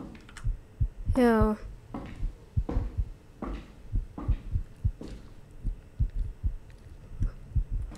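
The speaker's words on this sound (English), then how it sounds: "Why is my heart beating?" A horror video game plays a heartbeat, a steady low thumping pulse repeating throughout, with a rising tonal sweep early on and other faint game noises around it.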